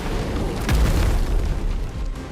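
A deep, booming explosion goes off in the video game Clair Obscur: Expedition 33, a single loud blast with a rumbling low tail that fades over a couple of seconds, with no voices over it.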